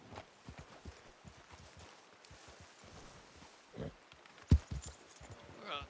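A horse in a Western roleplay game walks with soft, uneven hoof clip-clops at close range, joined by a few louder thumps near the end.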